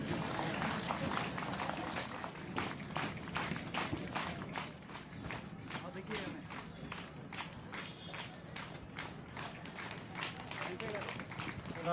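An audience at the 20th Mass Carol gathering in Seppa, East Kameng, claps in a dense, continuous patter of many hands. Voices and background noise run throughout.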